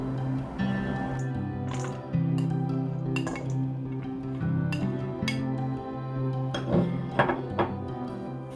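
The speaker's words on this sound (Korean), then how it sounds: "물기를 쫙 뺀 감자 반죽을 보울에 넣고 다진 고추와 섞어줍니다." Drained potato batter being mixed with chopped chili in a bowl: soft wet squishing and scattered light clinks of a utensil against the bowl, over a steady low background hum, with no talking.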